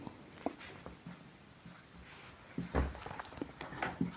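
Pen writing on paper during a probability maths lesson, soft intermittent strokes and taps close by, growing busier in the second half.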